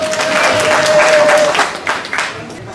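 Festival audience clapping in applause, dense and lively at first and then thinning into scattered claps, with a faint steady tone beneath.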